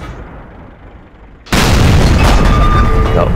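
A tank's main gun fires in a tank video game, one sudden deep boom after a quiet stretch, followed by a loud, sustained roaring rumble.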